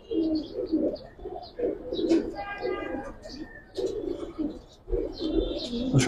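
Giribaz and colouring pigeons cooing in a loft, several soft coos and brief chirps scattered across the stretch with nearby human voices and market-like background bustle.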